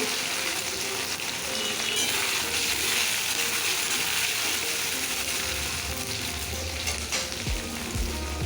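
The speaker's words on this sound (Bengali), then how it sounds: "পনিরটা ভেজে নিচ্ছি" Paneer cubes fry in hot oil with a steady, dense sizzle that crackles on throughout, close and fairly loud, with no voices.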